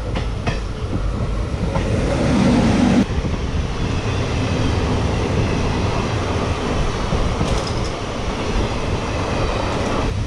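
The Koraput–Visakhapatnam InterCity Express rolls along, a loud steady rumble with rhythmic clickety-clack of wheels on the rails, heard from inside the carriage with faint squeals and a few knocks.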